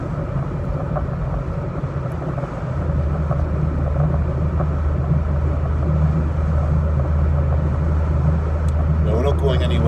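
Car engine running steadily while driving, a constant loud low rumble inside the cabin that deepens after a couple of seconds, with a voice speaking over it.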